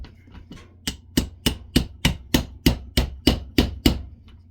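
A series of about a dozen evenly spaced light hammer taps on a Larue MBT rifle trigger during installation, sharp and close, with a few softer taps at the start.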